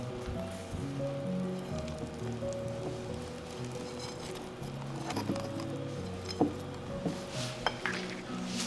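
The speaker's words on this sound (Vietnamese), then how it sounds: "Và 10g bột mì, khuấy cho hỗn hợp bột tan." Batter of coconut milk, egg, tapioca starch and wheat flour being whisked in a bowl, with soft rhythmic stirring and clinks of utensil on the bowl, a few louder knocks near the end.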